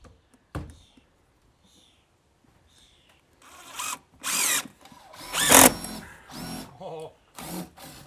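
Power drill driving black screws into a shed roof in short bursts, several whirring runs of rising and falling pitch after a quiet start, close and fairly loud, with brief low speech between.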